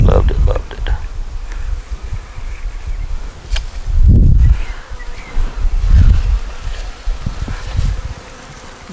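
Honey bees buzz around an outdoor hive near a nucleus colony with queen cells, a low humming drone that swells in close passes as a voice talks over it amid rustling.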